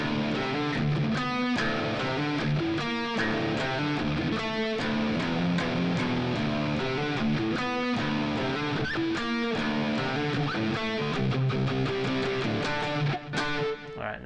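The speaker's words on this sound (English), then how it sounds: "then we have the chorus riff, which sounds like this." Distorted electric guitar plays the chorus riff, a loud, dense and continuous chugging pattern with repeated rhythmic accents, heard alone without talk.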